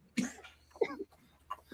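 Jace's coughing fit comes as a few harsh, hacking bursts spaced across a short moment, fairly close and moderately loud, with faint voices in the background.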